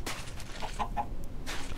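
A few short clucks from chickens close by, brief soft calls over a low background rumble.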